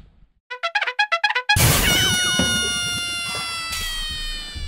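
A pet cat gives a quick series of about seven short, close meows, followed by a loud burst of clattering noise and a sustained bright ringing tone.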